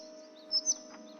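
Synthetic bird chirps in the video game Bye Sweet Carole, two brief bright tweets standing out over a steady hum of game ambience, no talk.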